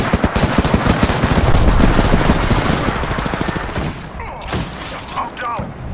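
Rapid automatic gunfire in a battle royale video game, a loud dense burst of shots close up that thins into scattered pops and clanks, with a voice talking over it.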